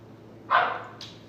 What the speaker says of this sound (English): dog's barking. I don't want to let them in.